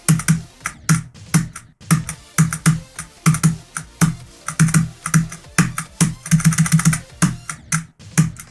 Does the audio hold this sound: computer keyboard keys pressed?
yes